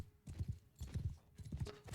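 Hooves clip-clop in a rapid, rhythmic gallop as a horse runs in a video game, steady pairs of low thuds repeating close up and fairly quiet.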